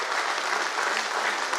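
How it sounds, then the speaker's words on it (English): A short, steady burst of audience applause at an academic regional workshop, even and continuous with no voices. "Big round of applause."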